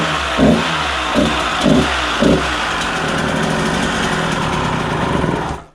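A motorcycle engine from a new bike project cranks in four short bursts, then catches and settles into a steady, fairly loud idle close by that runs to the end.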